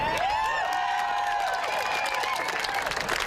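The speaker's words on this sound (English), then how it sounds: "With applause" Nurses applaud and cheer after a strike authorization vote, a steady wash of crowd clapping with shouting voices mixed in throughout.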